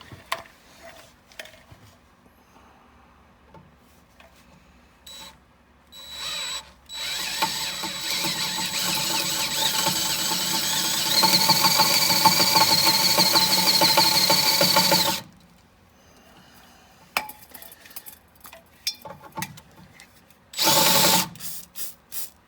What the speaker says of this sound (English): We've got to drill it in nice and straight and nice and clean.